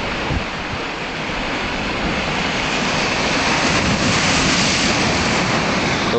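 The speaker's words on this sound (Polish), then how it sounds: "jest może jakieś 3-4 metry do morza i potężne fale atakują" Powerful sea waves crash near the shore at Calpe, three to four metres away, as a loud, continuous roar of surf with wind buffeting the microphone throughout.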